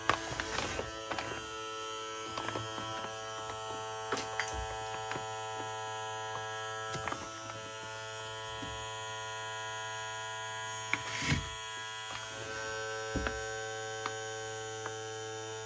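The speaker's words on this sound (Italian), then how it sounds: "e inizierà ad aspirare aria, quindi mettere sotto vuoto il filamento" Small electric vacuum pump drawing air out of a storage bag holding 3D printer filament, a steady close buzzing hum with occasional crinkles and clicks of the bag throughout.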